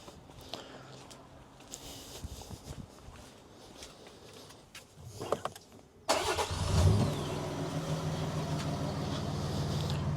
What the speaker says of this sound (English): All right, so car started.